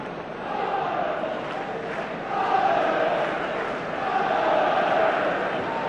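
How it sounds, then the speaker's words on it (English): A football crowd at a Celtic v Kilmarnock match cheers for the player Presley, a broad, continuous stadium roar that swells in waves, with a commentator's voice faintly beneath. "Presley gets a special cheer as he picks that up"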